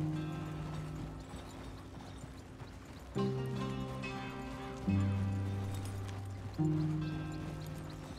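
Horse hooves clip-clop steadily at a walking pace in the open-world game Red Dead Redemption 2, close and clear, with low sustained musical tones swelling underneath and no talking.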